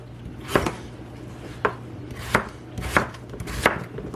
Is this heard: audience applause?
no